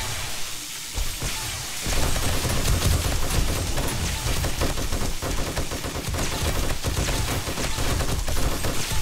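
An M60 machine gun in 7 Days to Die fires in long, dense sustained bursts, loud and close, with rapid rattling shots blending into a continuous roar after a brief quieter start.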